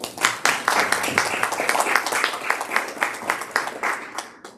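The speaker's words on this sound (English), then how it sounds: "Let's give them a round of applause." An audience claps and applauds in a dense burst of many hands, loud and close, fading out after a few seconds.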